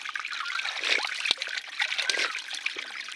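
Spring water trickling out of a mountainside, an uneven, splashy flow with small drips and spatters close by, running steadily with no talk over it.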